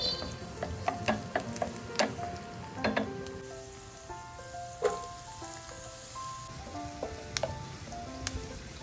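Garlic and onion sauté in cooking oil in a pan, crackling with an irregular, faint sizzle broken by sharp pops and occasional stirring clicks.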